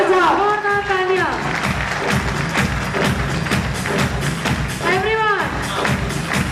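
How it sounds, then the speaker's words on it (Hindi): Loud applause for a speaker welcomed on stage at an international business event, dense crowd clapping throughout with cheering, whoops and a host's amplified voice rising over it. "जोरदार तालियां के साथ"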